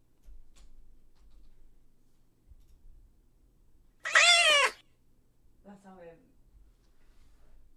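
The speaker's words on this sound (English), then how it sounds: "Let's maybe just turn off the cat noise." A loud cat meow alert on a livestream rings out once as a single bright, rising-falling yowl in a quiet room, followed by a fainter second meow moments later.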